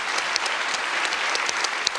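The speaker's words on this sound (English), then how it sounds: "give a huge round of applause to every single humanitarian out there around the world" A conference audience breaks into sustained applause, a dense, even patter of many clapping hands close by, with no talk over it.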